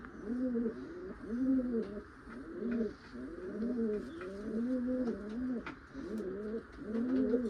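A female Malwai pigeon coos steadily and close by, repeating rounded, throaty phrases in a regular rhythm for the whole stretch, with no voices over it.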